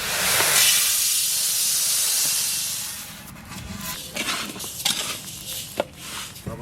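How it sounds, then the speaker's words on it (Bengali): Mung dal frying in a pan gives a loud, close, steady hiss for about three seconds, then settles to a softer sizzle broken by scattered scraping and clinks. "মুগের ডাল ভেজে নেব।"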